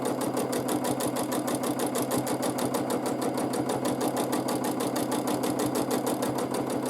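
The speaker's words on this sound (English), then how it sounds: "only quilting the wavy lines up and down without hurrying, and just moving around your quilt" A sewing machine runs steadily, quilting meandering wavy lines across a quilt in an even, rapid rhythmic chatter that stays close and constant throughout, with no talking.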